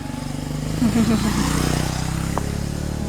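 A motorcycle goes by on a street, its steady low engine drone holding throughout at moderate distance, while a child and an adult talk over it.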